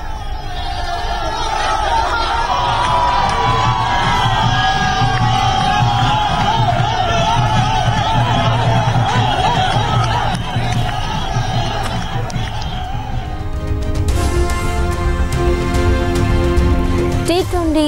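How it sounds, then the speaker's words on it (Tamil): Indian cricket fans pack a street after India's T20 World Cup win, a loud, continuous roar of cheering and babble throughout, with brighter rhythmic shouting or horn-like noise joining near the end. "இந்திய அணி ரசிகர்கள் சாலையில் திரண்டு ஆரவாரம்"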